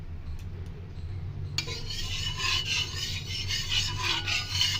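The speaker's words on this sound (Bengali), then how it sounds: "এক চিমটা সর্ষের তেল দিয়ে চাটুটাকে ভালো করে মাখিয়ে নিলাম।" Mustard oil gets brushed across a hot tawa, starting with quiet low hum, then a sudden scratchy rubbing and sizzling that continues in uneven strokes, close and moderately loud.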